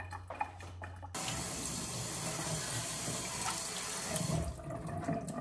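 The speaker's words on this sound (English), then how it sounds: "Okay, let's wash the bottom." Water from a tap runs steadily over a plastic seed-starting tray as its bottom is washed in a sink, a close, continuous splashing rush that starts abruptly after a brief quiet moment with a few knocks.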